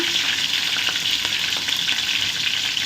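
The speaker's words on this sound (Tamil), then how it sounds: "கடுகு வடிக்குது பாருங்கள்" Steady, dense crackling and spluttering of mustard seeds popping in hot oil, continuous and close, with no voices.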